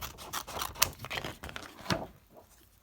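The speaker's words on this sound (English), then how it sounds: "And then I'm just going to cut off a piece" Scissors snipping through a piece of ribbon for Halloween ruffle embellishments, a quick series of sharp close cuts and rustles that stops, leaving quiet at the end.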